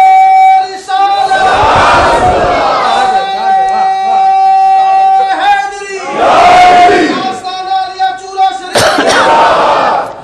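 A large crowd at a religious gathering roars slogans in loud call-and-response bursts, swelling and fading in waves, with an amplified voice and ringing musical tones between the shouts.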